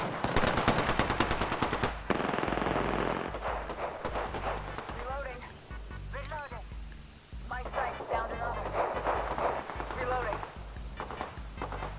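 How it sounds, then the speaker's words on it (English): Automatic weapon fire in the Apex Legends video game: loud rapid bursts dominate the opening seconds, then sporadic shots and shorter bursts continue over a steady droning game background with occasional effect sounds. "Taking fire. Firing."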